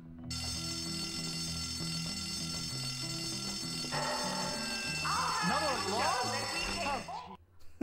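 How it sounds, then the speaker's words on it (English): A fire alarm in the video game Bully rings nonstop, shrill and steady throughout, with in-game music and sound effects shifting beneath it before it cuts off abruptly at the end. "I got money for pulling the alarm."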